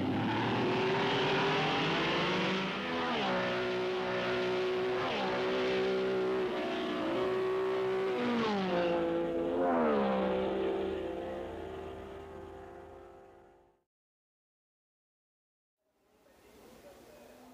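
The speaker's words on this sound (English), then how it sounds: "Ferrari's first rear-engine Formula One car," The Ferrari Sharknose, Ferrari's first rear-engine Formula One car, races past with a loud, rising and falling engine whine through several gear changes, then cuts off abruptly before faint noise returns.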